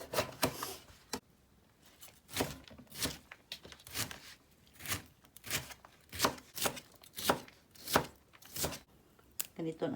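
A whole onion is being chopped on a cutting board for a stir-fried chicken gizzard and string bean dish, with about a dozen sharp, evenly spaced knife strikes, close and distinct.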